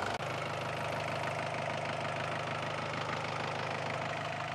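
A Hindustan Ambassador car engine idles smoothly and steadily nearby, a low, even rumble with a faint regular knock and no talking.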